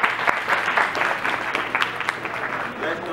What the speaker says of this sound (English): Let's not be stingy with those applauses.